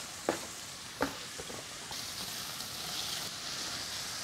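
Bacon cubes and onion fry in a pan for a Ukrainian green borscht, giving a steady close sizzle with a couple of sharp stirring knocks near the start.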